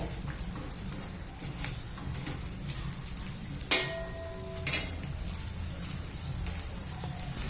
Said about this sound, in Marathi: तीळ आणि लसूण छान असं भाजून निघलं पाहिजे.